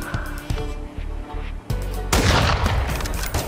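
Sniper rifle gunfire in Call of Duty Modern Warfare: several sharp, loud reports in quick succession, followed by a dense burst of rapid shots and explosions at the end.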